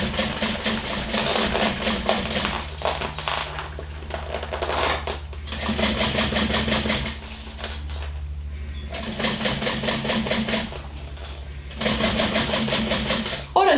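A sewing machine stitches the seam of a Rosie bag in steady, fast whirring runs, pausing and restarting several times over a low background.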